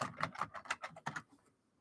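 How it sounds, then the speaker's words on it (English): Quick, quiet taps on a computer keyboard, a short run of keystrokes that trails off into silence. "I'm typing to find something for y'all."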